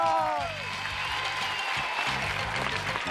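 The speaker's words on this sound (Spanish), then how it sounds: "¡Fuerte aplauso!" Television studio audience applauding on a Spanish game show's Christmas episode, a dense wash of clapping under a musical tone and background chatter.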